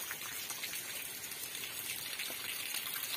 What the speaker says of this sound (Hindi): तो देखिए कैसा तूफान लगा है और बारिश भी बहुत तेज हो रही है।